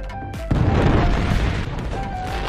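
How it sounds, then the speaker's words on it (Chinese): An anime scene in which a captured bomber becomes a human firework: a sudden heavy boom bursts out after a brief quiet hum, then a dense roaring rumble fills the rest of the moment. "此刻炸弹魔的下场只有一个，那就是成为叶英家观赏用的人体烟花"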